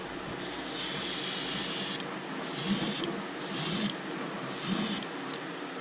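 Aerosol spray paint of black color sprayed onto a crankbait fishing lure for a fire tiger pattern: four short hissing bursts of spray, close and steady, separated by brief pauses.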